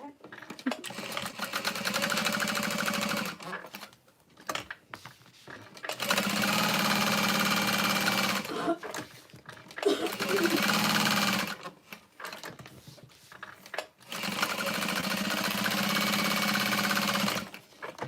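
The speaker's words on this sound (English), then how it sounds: "So then I'm going to baste this foam in place." Sewing machine basting a layer of foam onto the bottom panel of a tote bag, running in three long, loud, steady bursts separated by pauses where people talk.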